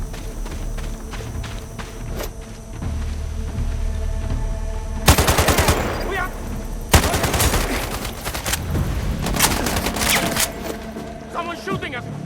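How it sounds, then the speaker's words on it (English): Game gunfire from Sniper Ghost Warrior Contracts 2 crackles in several loud, rapid automatic bursts around the five-, seven- and ten-second marks, with lighter shots and footstep-like thumps between them while voices talk over a steady low background. "Someone's shooting us!"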